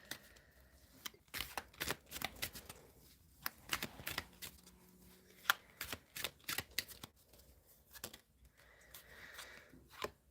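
Tarot cards being shuffled by hand in rapid riffles and slides, a dense run of crisp, papery flutters and taps close by, with no voice over it.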